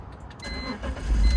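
A cheap, worn BMW E46 drives along a road, heard from inside as a low, rumbling engine and road hum that swells toward the end of the short stretch, with no voices.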